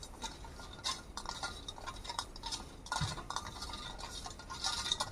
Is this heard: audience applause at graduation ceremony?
no